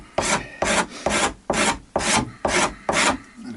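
Steel cabinet scraper smoothing the wood and edge bevel of a Tanglewood WildKat guitar body, seven steady rasping strokes in an even rhythm, close and fairly loud with no talking.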